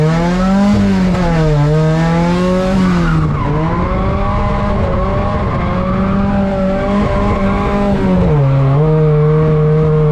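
A Volvo drifting around a race track, its engine droning loudly with rising and falling revs as the tires squeal continuously through the slide, heard close and constant.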